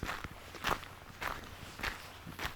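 Footsteps on a Stockholm city street, with about four to five evenly spaced steps sounding fairly close over steady outdoor background noise.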